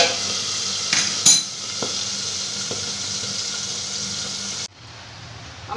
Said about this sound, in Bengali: বোয়াল মাছ খুব আস্তে আস্তে করে ভাজতে হয়,